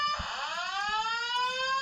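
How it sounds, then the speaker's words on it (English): Electronic alarm sounding in a football stadium press box during a high school game, a loud sustained tone that sweeps upward and then holds steady, with faint background noise. "we had an alarm go off here in the press box"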